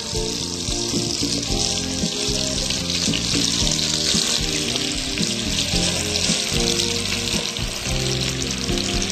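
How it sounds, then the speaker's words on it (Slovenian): Chicken pieces fry in melted butter and olive oil in a pan for chicken Marengo, giving a steady, dense sizzle close up without pause or voices. "pričekamo da se maslac rastopi, dodamo komade piletine"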